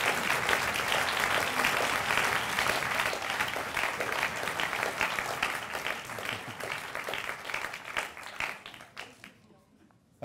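A room full of people gives warm, sustained applause for a retired border police sergeant, dense clapping at a steady level for several seconds before thinning out and fading to near silence.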